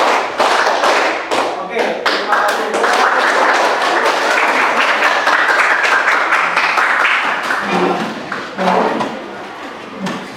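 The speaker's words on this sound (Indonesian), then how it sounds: "Oke, tepuk 1 2 kali. Tepuk 2 kali." A classroom group claps on command in sharp, distinct bursts of many hands, loud and close, with brief pauses between rounds and a voice speaking near the end.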